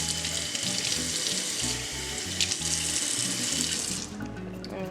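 Running tap water gushes steadily into a sink as the blackened skin is rinsed off a roasted chile, a loud continuous rush that eases slightly near the end, with background music underneath.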